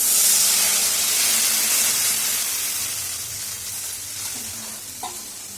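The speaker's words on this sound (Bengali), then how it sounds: "সর্ষে বাটাটা কড়াইতে দিয়ে একটু কষিয়ে নিয়ে জল দিয়ে দেবো।" Water poured into mustard-paste fish curry in a hot pan sets off a loud, broad sizzle and hiss that gradually settles, with faint stirring clinks near the end and no talking.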